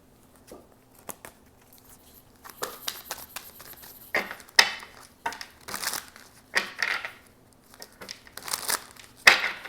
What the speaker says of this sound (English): Put this card back.